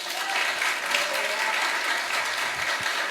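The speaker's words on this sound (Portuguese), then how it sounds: "Vamos aplaudir ao Senhor." A church congregation applauds during a Sunday service. The clapping is dense and sustained, with many hands at an even, full level throughout.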